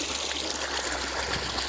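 Steady, continuous water flowing and splashing close by during bathing, a dense even rush with no voices.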